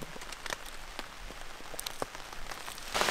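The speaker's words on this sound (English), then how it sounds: "If you can hear that, real showers here." Rain showers fall during a storm at a backcountry campsite in Algonquin, pattering steadily with scattered sharper drops on nearby surfaces and a brief louder burst at the end, with no voices.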